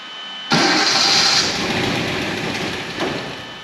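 A 1973 Datsun 240Z with a turbo, left sitting over twenty years, catches abruptly and roars to life, then settles into a loud, steady running note with a small surge near the end.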